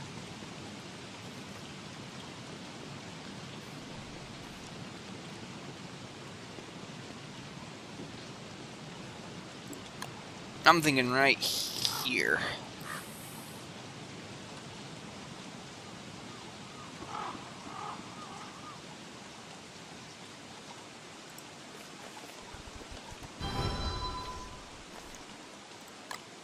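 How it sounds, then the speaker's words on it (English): Steady rain hisses as a constant wash of noise in the video game Don't Starve, with a brief rush of game sounds partway through and someone speaking quietly once. "just because it's raining."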